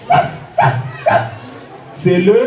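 A person imitates a dog barking with voice, giving three short woof-like yelps in a steady rhythm followed by a longer rising whine, loud and close.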